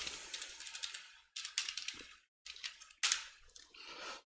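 Fast bursts of computer keyboard clatter as code is typed, close and crisp, separated by brief pauses, with no voice.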